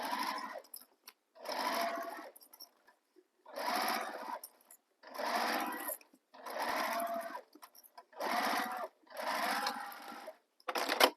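A sewing machine stitches a handbag seam in seven or eight short, rapid bursts of whirring needle strokes, each lasting about a second with brief pauses between, close and clear with no talk.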